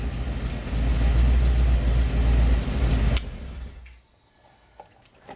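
A Ford Mustang SN95 engine, started through a bypassed ignition with the steering column disconnected, idles with a loud close low rumble for about three seconds, then cuts off abruptly into near silence with a few faint clicks.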